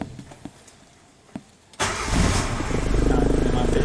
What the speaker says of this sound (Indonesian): Sekarang saya starter,